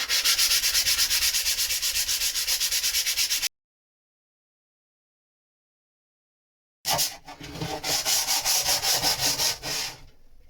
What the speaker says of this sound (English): I don't want to take that strength away by sanding it all away.